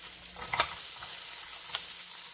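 Garlic, ginger and onions frying in a few tablespoons of oil in a sauté pan, a steady bright sizzle with a couple of soft stirring clicks, close and alone.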